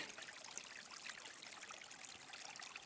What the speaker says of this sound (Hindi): ये प्राकृतिक स्रोतों का पानी है